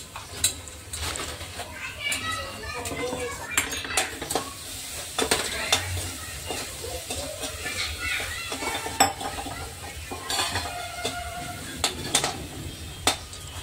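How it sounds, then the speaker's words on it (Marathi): Green chili paste sautéing with curry leaves in hot oil for a ridge gourd dish, a steady sizzle under repeated stirring scrapes and clinks of a utensil against the pan, close and continuous, with faint background voices. "चांगलं हिरवी मिरची तेलात परतून घेतल्यानंतर मग वरून दोडकाची फोडणी देणार आहे।"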